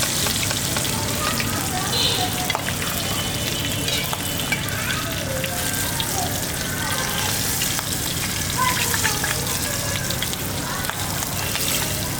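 River catfish frying in a pan of oil in a village kitchen, sizzling in a dense, continuous crackle with small pops and faint stirring scrapes, close and steady.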